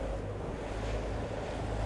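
Steady wind and surf at sea during a test of an Azimut 66 motor yacht with Caterpillar C18 engines, a long southwesterly swell running; a continuous loud rushing roar with low rumble, no voices.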